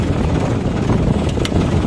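Sonalika DI 60 or Ford 3630 tractor, an old model, running steadily in top gear with a constant, loud low engine rumble and no break for the whole stretch.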